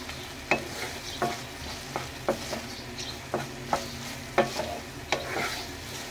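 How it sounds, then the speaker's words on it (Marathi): Soybeans being stirred in a pan for soybean chilli, a soft steady sizzle broken by regular scraping knocks of the spoon about once every half second, close and clear with no voices. "ह्याच्यामध्ये आता आपले 1 मिनिटासाठी सोयाबीन मिक्स करायचे"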